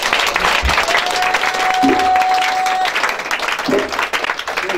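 A church congregation at a prayer service claps and cheers for Jesus in a dense, sustained burst of applause, with a voice speaking over the crowd.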